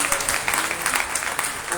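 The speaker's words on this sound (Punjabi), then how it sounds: "ਤਾਲੀਆਂ ਵਜਾਵਾਂਗੇ" A church congregation clapping during a Sunday sermon, a short run of rapid, fairly loud claps from a group, with some voice sound mixed underneath.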